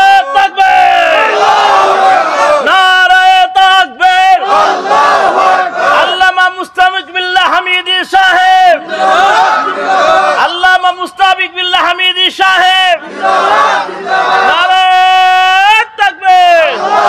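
A large crowd at an Islamic waz sermon roars takbir chants in loud, repeated collective shouts, alternating with a preacher's amplified voice.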